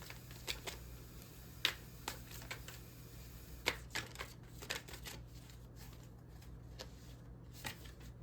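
Chateau tarot cards being shuffled by hand, a string of soft riffling snaps and taps at an uneven rhythm, close and quiet over a faint steady hum, no talking.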